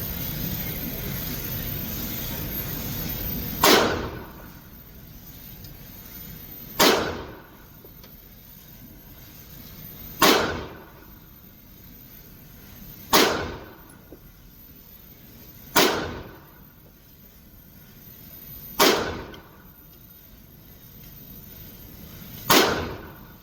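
Handgun fired ten rounds at an outdoor shooting range: loud, sharp single shots spaced a few seconds apart, each with a short ringing decay, and quiet between them.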